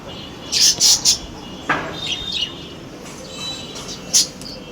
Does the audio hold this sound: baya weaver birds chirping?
yes